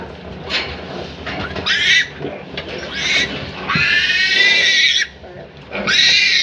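Newborn piglets from farrowing sows on a farm, squealing loudly and close in several shrill bursts separated by short gaps, with brief muffled talk in between.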